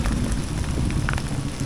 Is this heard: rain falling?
yes